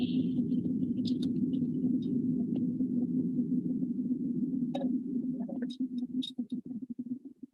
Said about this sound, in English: we actually have low amplitude oscillations, and these are aperiodic, and the community calls them combustion noise.